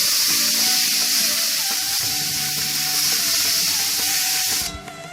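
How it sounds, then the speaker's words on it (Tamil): Tomato, onion and green chilli sautéing in a pan give a steady, loud hiss and sizzle with faint scraping clinks, continuous throughout before easing off at the very end. "அந்த தக்காளி, வெங்காயம், பச்சை மிளகா இது எல்லாத்தையும் அதில் போட்டுக்கிட்டு இன்னும் கொஞ்சம் நல்லா வதக்கிட்டு இருக்கணும்"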